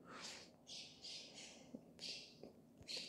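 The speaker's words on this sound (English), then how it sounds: "Holy moly, that bird is loud." A loud bird squawks repeatedly in short, harsh bursts, several calls in quick succession close by, with no talking.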